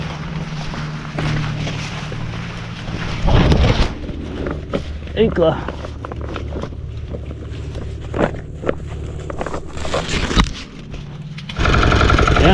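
A boat's motor drones steadily under strong wind buffeting, while someone speaks briefly over the noise.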